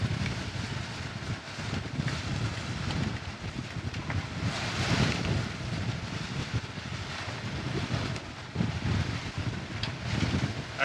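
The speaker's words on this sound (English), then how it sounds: "this is what we're getting with 20 knots of true wind speed" Strong wind roars steadily across a Leopard 45 cruising catamaran sailing close reach under genoa in about 20 knots of wind, with continuous rushing gusts, mic buffeting and faint water wash, no voices.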